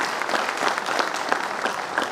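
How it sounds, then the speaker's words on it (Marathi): A crowd at a Shiv Sena rally in Solapur applauds party officials with dense, steady clapping throughout, loud and sustained with no pauses. "त्या सगळ्या पदाधिकाऱ्यांसाठी जोरदार एकदा टाळ्या वाजून त्यांचं अभिनंदन करायला पाहिजे"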